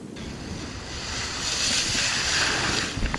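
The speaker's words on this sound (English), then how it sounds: "Along the Jersey Shore overnight, Hermine whipped up strong waves." Strong ocean waves whipped up by Tropical Storm Hermine crash and roar along the Jersey Shore as gusty wind buffets the microphone, a loud and continuous rush with no voices.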